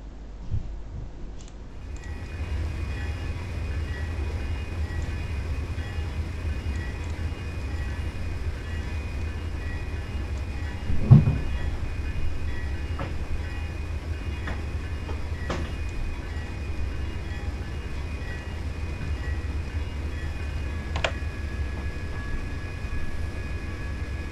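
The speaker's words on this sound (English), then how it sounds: "Should I crash this train?" A train running in a video game gives a steady low rumble for the whole stretch, with a few faint clicks and a brief louder bump partway through, and no talk.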